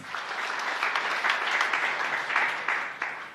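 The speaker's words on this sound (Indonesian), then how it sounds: "kita beri tepuk tangan yang meriah bagi Tuhan" A church congregation gives a round of applause during a sermon, a steady, moderately loud patter of many hands clapping for a few seconds with a few sharper claps standing out.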